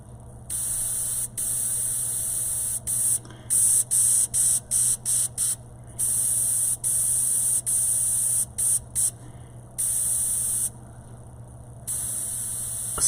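An airbrush sprays paint through a mesh stencil for shading, its steady high-pitched hiss cutting on and off in short bursts and longer passes over a low constant hum, with no talking.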